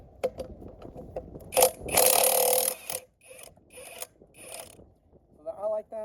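A Hercules 3/4-inch impact wrench in its fourth mode rattles on a bolt in one loud burst of about a second, followed by several shorter, softer bursts, with a brief voice at the end.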